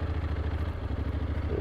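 A Honda NC750X with DCT gearbox rides along a dirt forest road, its engine droning steadily and close with a rhythmic pulsing throb and light clatter throughout.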